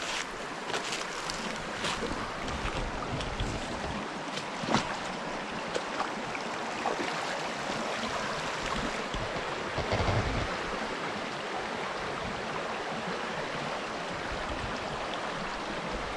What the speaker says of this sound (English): I'm actually going to walk out in the creek so y'all can get a better view of how far it goes down